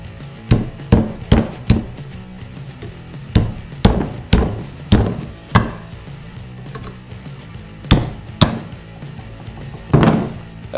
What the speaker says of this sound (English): A little tappy tap hammer.